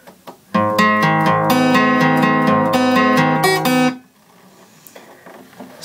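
A guitar plays a short passage of a song, with picked arpeggiated chord notes ringing close and clear for about three seconds before they stop, leaving quiet room noise.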